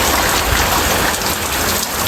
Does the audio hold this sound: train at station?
no